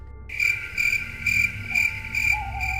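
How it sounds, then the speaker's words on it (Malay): Crickets chirp at night near a cemetery, a loud close pulsing trill repeating in steady bursts against a quiet background. "Masa tu pun kata Abang Padil, kalau terdengar pun cuma bunyi cengkerik aja."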